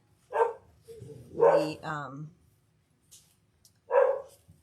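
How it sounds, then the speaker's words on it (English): A dog gives a few short barks and yips, close and clear, separated by pauses in an otherwise quiet room, with a voice murmuring briefly. "My dog's barking."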